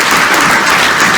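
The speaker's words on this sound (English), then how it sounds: "A round of applause to you." Steady, dense clapping from a large crowd at an awards event, loud and continuous throughout with no gaps.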